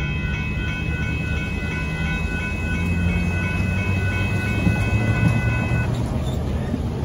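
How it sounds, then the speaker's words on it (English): A northbound Union Pacific coal train passes steadily at a road crossing in Austin, Texas, its loud continuous rumble and rolling wagon noise filling the scene with faint horn-like tones above, no voices. "There goes the Northbound Union Pacific coal train going by Dittmar Road in Austin, Texas"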